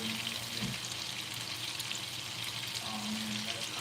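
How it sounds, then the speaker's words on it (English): Water boiling hard in a good cooking pot on the stove, a steady close bubbling and sizzling hiss that runs unbroken throughout, with no voices. "at least it's just the water boiling"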